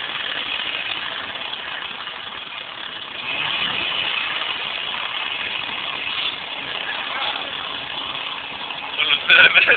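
A steady boat motor drone runs throughout on the sea, loud and close, with an even hum and a slight rise in intensity near the end.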